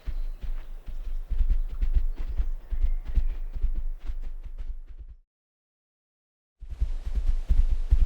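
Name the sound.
horse hooves clip-clopping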